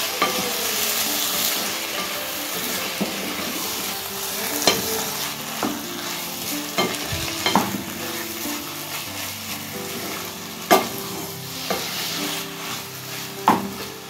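Chicken stir-fried in Kolhapuri masala in a pan, a steady close sizzle broken by irregular scraping spatula strokes and occasional sharp knocks against the metal, with no voices.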